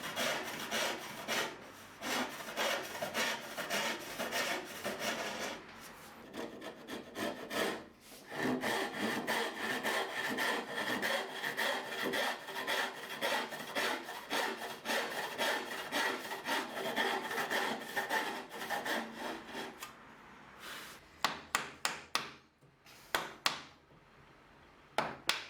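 A hand saw cuts wood just beside dovetail lines on the waste side, with rapid, even rasping strokes in a steady rhythm that stop near the end, followed by a few scattered taps.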